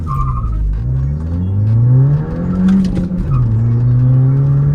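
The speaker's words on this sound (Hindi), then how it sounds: "एक लॉन्च करके देखते हैं गाड़ी को।" A manual Skoda Laura launches hard from a standstill, its engine revving up through rising harmonics, dipping at a gear change and climbing again, loud and close with no talk over it.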